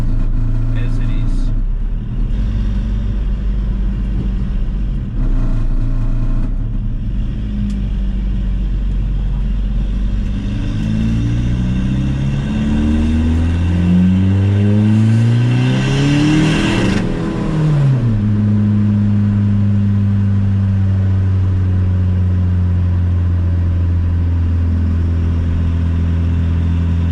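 A big-turbo VW Polo TDI diesel with a troublesome gearbox accelerates hard from close by, its loud engine drone climbing in pitch through the gears, with a quick shift midway before it settles into a steadier pull.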